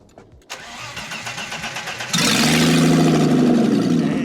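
A BMW E30's engine cranks several times, catches, and settles into a loud, raw, unmuffled idle with a steady rumble, exhaust removed and running on open headers.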